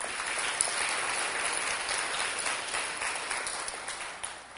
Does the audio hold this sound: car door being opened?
no